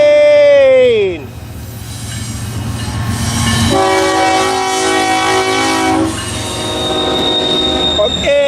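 Loud, sustained metallic screeching of train wheels grinding around a rail curve, following a blaring train horn at the start, with the squeal rising and holding for several seconds.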